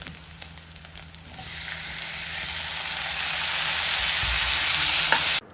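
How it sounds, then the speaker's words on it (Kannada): Tomatoes frying in oil for an okra curry, a steady close sizzle that swells after the first second and holds loud and even, with faint clicks early on and no talk. "ಸೊ ಬೆಂಡೆಕಾಯಿ ಪಲ್ಯ ಮಾಡೋದಕ್ಕೆ ನಾನು ಟೊಮೊಟೊನ ಹಾಕಿ ಸ್ವಲ್ಪ ಅದು ಫ್ರೈ ಆಗೋಕ್ಕೆ ಬಿಡ್ತೀನಿ"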